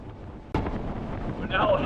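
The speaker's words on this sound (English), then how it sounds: "you can literally hear how windy it is" Strong wind buffets the microphone in heavy rumbling gusts in the Whitsundays, Australia, with a brief whine rising near the end.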